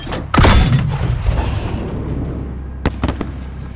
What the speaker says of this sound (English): fire a flare from the launcher on the roof